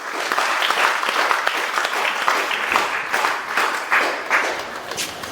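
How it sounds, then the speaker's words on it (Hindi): Audience applauding a Class 12 NEET student at an indoor school event: sustained clapping from a crowd, dense and lively, swelling in uneven waves for several seconds. "ताली बजाएं आहाना के लिए।"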